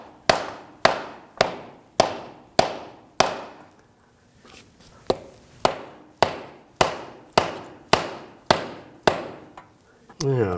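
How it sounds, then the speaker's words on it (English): Rubber mallet tapping the front left CV axle into the transmission of a 2001–2009 Volvo S60: a dozen or so sharp, close knocks at an even rhythm, with one short pause midway. "If you're having a little trouble, you can take a rubber mallet. Just give it a couple taps."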